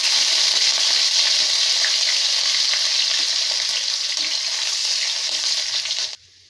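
Chopped garlic and green chilli fry in oil for chilli chicken, making a loud, bright, continuous sizzle close up that runs steadily for about six seconds before cutting off abruptly.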